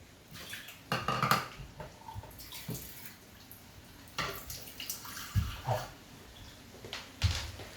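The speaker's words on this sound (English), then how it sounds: "just add more water because the broth wasn't enough" Water being poured into a cooking pot of simmering meat pie filling with potato, carrot and broth, heard as irregular splashing and sloshing bursts with clinks of the pot, moderately close and with no talk.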